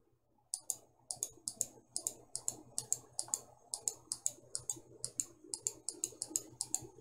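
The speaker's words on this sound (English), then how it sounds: "left clicking here around the map to create the effect that I want for the cave" A computer mouse is left-clicked repeatedly while painting a cave map in Dungeon Painter Studio, a steady run of crisp, close clicks in a quiet room.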